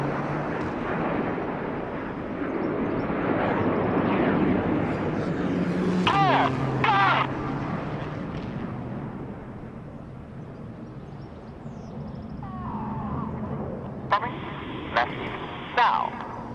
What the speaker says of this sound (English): The inside pilots perform tight match rolls to the outside of the formation in the rollbacks.